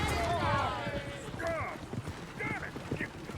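Horses in the open-world Western game Red Dead Redemption 2, hooves clip-clopping steadily with a few whinnying calls, heard mid-distance beneath overlapping in-game voices and ambient background noise.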